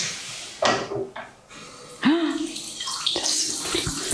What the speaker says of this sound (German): hier läuft tatsächlich nur das Wasser